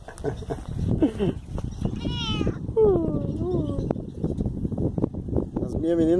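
A cat meows several times, close and clear, mixed with people talking nearby, and a person imitates meowing back at it.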